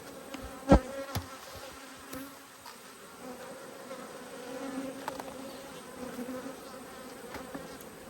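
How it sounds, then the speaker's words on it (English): Angry honey bees drone steadily around an open hive during an inspection, a dense, continuous buzz with a sharp knock near the start and a few faint clicks. "So a massive amount of bees in the top."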